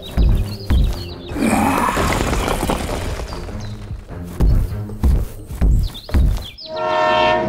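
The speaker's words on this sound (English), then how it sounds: "The train is coming." A cartoon train rumbles and clatters along the rails as it approaches, with horn-like tonal blasts, booming thuds and a rising whistle-like tone at the end, loud and busy throughout.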